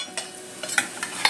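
Chicken with spices cooks in a pan, a soft frying sizzle broken by a few quick scraping strokes of a spoon stirring, close and brief.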